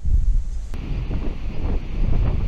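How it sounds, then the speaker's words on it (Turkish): Strong wind buffets the microphone on the bank of a stream during a fishing outing, a steady, rough roar that rises and falls slightly, with no voices. "Görüyorsunuz ki hava gayet rüzgarlı."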